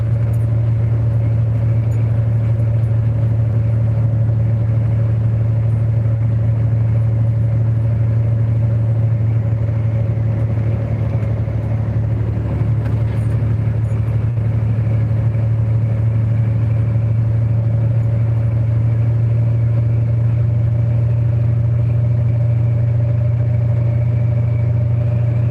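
A governed truck drives along roads, its engine a steady, loud, continuous drone with a constant low hum and no talking.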